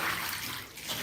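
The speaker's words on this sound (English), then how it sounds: "So make sure I rinse out this tub." Water runs into a tub during a hair relaxer and colour rinse, a brief, fairly quiet splashing wash with no talking.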